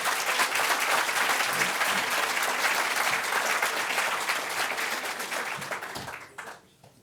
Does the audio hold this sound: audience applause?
yes